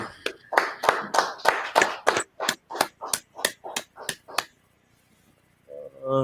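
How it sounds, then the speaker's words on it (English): A group claps together in a steady rhythmic beat during a scripture class, about a dozen sharp unison claps that slow and stop, followed by a brief silence before a voice begins. "right, clap it up"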